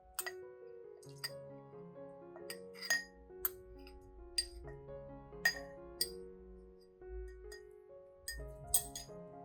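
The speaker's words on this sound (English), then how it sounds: "I'll place all the lentils into a clean glass jar." Scattered glassy clinks and taps ring out as dry lentils are poured into a glass jar, some sharper than others, over gentle background music with no voices.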